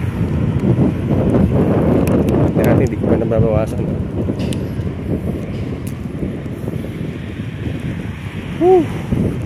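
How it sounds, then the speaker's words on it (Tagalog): Wind buffets a microphone along a highway, a continuous low rumble of gusts that persists throughout, with a person talking over it for much of the time. "Sarap ng hangin."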